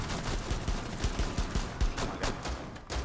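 Shotgun hip fire in the video game Rainbow Six Siege, with rapid overlapping gunfire bursts and booming shots in dense succession, loud and continuous throughout.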